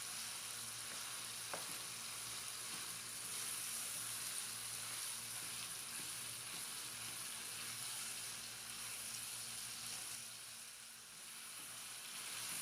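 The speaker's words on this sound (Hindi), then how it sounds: "इसको मीडियम फ्लेम पे हम तब तक फ्राई करेंगे जब तक कि इसका कलर जो है वो अच्छी तरह से चेंज ना हो जाए" Boneless chicken pieces fry in a pan over medium flame, making an even, soft sizzle that runs steadily the whole time with faint stirring and no talk.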